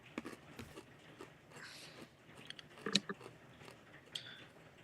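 Crunchy strawberries being chewed close up, with a few sharp crisp bites and soft mastication sounds at low level, no talking.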